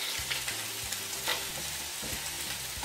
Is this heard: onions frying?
yes